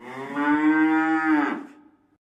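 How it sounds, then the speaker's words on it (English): A plastic toy cow lets out one long, loud, close moo that holds steady and then trails off into silence. "as soon as the first moo was sounded"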